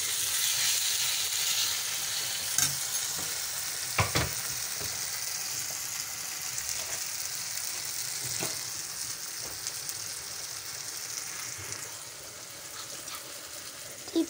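Paneer curry frying in a pan and being stirred, a steady sizzling hiss throughout with occasional soft spoon scrapes and knocks, close and moderately quiet, no talking.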